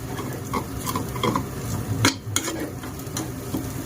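Leftover cold rice is stir-fried into fried rice in a pan, with a close, steady sizzle broken by repeated scrapes and taps of a spatula and one sharper clatter near the middle.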